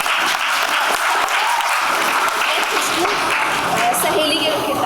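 Audience at a Hindi stage play of Baiju Bawara applauds loudly and steadily, a dense wash of many hands clapping throughout with no break.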